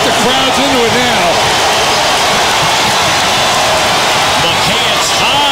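Basketball arena crowd during a 2003 triple-overtime college game between UNC and Wake Forest, cheering and applauding as a steady, loud roar throughout, with commentators talking over it.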